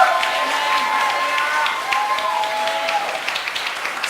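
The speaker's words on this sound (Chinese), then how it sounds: "大家都掌声耶稣。" A church congregation applauds during a Saturday worship service, a steady wash of clapping with some cheering that holds for the full stretch, with a voice faintly audible through it.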